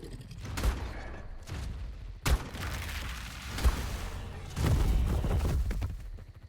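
ARK video game gunfire against gigas breaks out in several sharp bursts and heavy volleys, some thudding booms among them, loud and close with brief gaps between.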